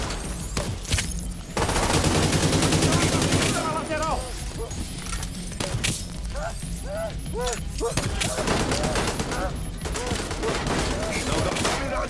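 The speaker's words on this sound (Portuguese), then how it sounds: "Pronto pra atirar!" Sustained automatic gunfire rattles through a firefight in Tom Clancy's The Division 2, loud and continuous, with bursts and mechanical clatter layered under in-game voices shouting.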